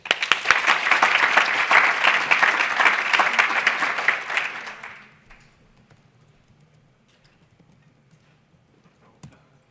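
A conference audience at a PyData London lightning-talk session breaks into loud, dense applause for about five seconds, then it abruptly fades to near silence with only faint room noise and a stray clap or two.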